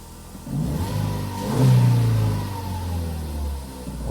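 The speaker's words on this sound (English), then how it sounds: "So as you can hear, the engine is running" A car engine runs at close range, a rumbling hum that swells briefly as if revved, then settles back to a steady idle.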